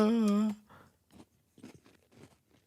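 Bites into a roughly five-inch Cheez-It cracker, a few short dry crunches heard up close after a brief sung vocal sound at the start.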